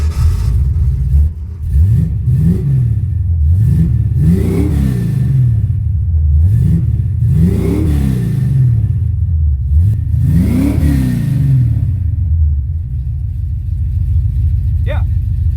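A 1979 AMX engine starved of fuel revs and surges in uneven bursts, rising and falling several times at close range, with a steady low rumble underneath and a person talking over it.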